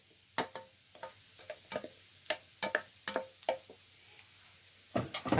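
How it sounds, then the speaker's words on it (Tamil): Garlic sambal being mixed in a hot pan in the Jaffna Sri Lankan style, a series of sharp, irregular clicks and taps from the spoon against the pan over a faint sizzle. "அப்படியே அந்த சட்டின்ற சூட்டில் இதை இப்படியே மிக்ஸ் பண்ணி எடுத்துக்கொள்ளுவோம்"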